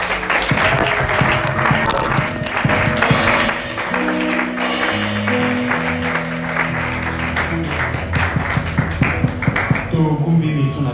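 Church congregation applauding and cheering in acclamation of God, sustained dense clapping throughout, mixed with voices and background music.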